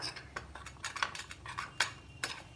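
Masala paste for paneer rogan josh is scraped and stirred in a kadhai, a spoon clinking and tapping against the metal pan in light irregular strokes, close and fairly quiet.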